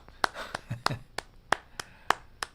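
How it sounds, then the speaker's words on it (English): A few sharp hand claps ring out one at a time with gaps between them, close and fairly loud, amid a quiet indoor setting. "No, it needs full applause."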